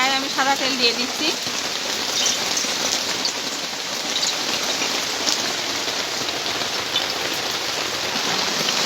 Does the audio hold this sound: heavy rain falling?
yes